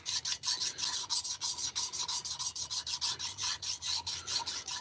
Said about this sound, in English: Just giving this piston cylinder sleeve a last pass with some 120 grit